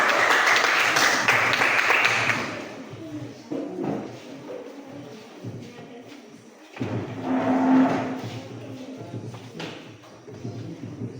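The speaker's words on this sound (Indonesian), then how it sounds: "berikan tepuk tangan untuk teman kita kelompok 1" Classroom students clap for a group of classmates, a loud burst of many hands for the first couple of seconds that quickly fades, followed by quieter murmuring voices and room noise.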